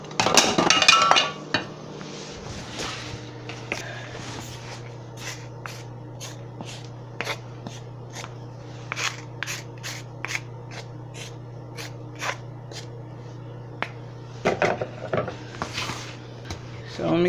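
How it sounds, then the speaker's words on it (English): A spoon mixes and folds oatmeal chocolate chip cookie dough in a bowl, with repeated close clinks and scrapes in an uneven rhythm over a low steady hum. "So we're gonna mix everything in, fold it. I think I need to get like a bigger spoon"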